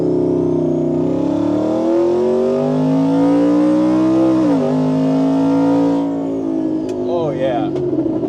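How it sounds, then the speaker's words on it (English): 1550whp Shelby F150 truck accelerating hard in second gear with boost, engine climbing in a loud, close roar, dipping briefly at a shift and pulling again before easing off with a whistling tail. "Go ahead and do a little second gear rip, 7 PSI."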